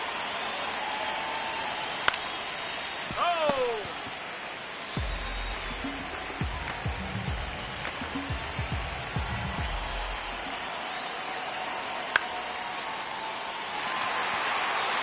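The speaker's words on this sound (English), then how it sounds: "Let's take a moment and listen to this crowd" A broad, steady video game crowd roar fills a baseball stadium in MLB 26, with scattered cheers and faint whistles rising over the constant wash of noise.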